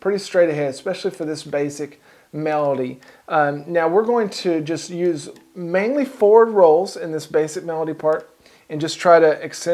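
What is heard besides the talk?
No everyday noise stands out behind the speech.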